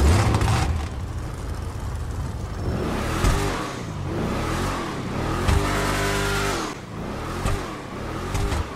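Vapid Trophy Truck off-road racer in GTA V, its engine revving through repeated rising and falling sweeps, loud and close with no talk.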